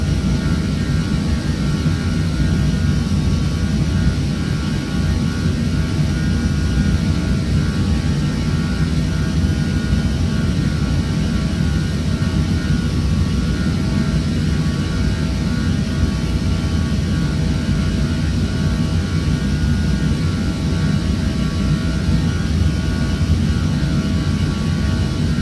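Airbus A320 jet engines roar in a flight simulator just after gear-up, a loud continuous broadband drone holding steady throughout with no talk.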